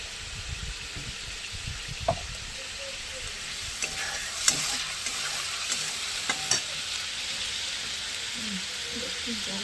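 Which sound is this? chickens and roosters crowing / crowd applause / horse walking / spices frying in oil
spices frying in oil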